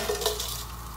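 Whole spices roast in hot oil for kabsa, giving a brief, soft, even sizzle with a faint stirring scrape, close by and without speech.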